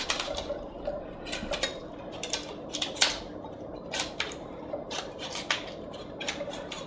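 Cauliflower florets snapped and cut away from the head one after another, a series of close crisp cracks and crunches in an irregular rhythm with no talk.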